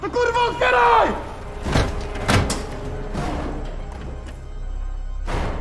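Police break a door lock in a raid, with heavy thuds and a sharp crashing impact on the door amid shouting voices, followed by a further knock.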